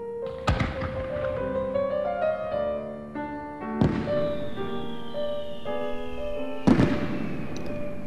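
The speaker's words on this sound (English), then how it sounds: "12 mighty men of war fired in unison." Three heavy booming blasts of warship cannons firing, each sharp onset followed by a long ringing decay, spaced a few seconds apart with tonal resonance lingering between them.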